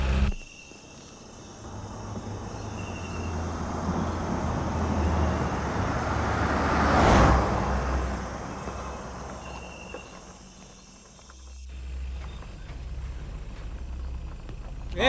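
Road traffic hums steadily with a car passing close by. The engine swells to a loud peak mid-way and then fades, and a faint insect-like chirping continues in the background.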